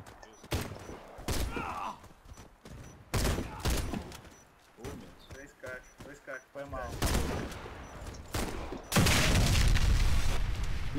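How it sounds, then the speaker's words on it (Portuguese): Bomb detonating in the first-person shooter Warface, amid bursts of gunfire and sharp shots, ending in a loud, sustained blast; voices talk between the shots. "O inimigo detonou a bomba."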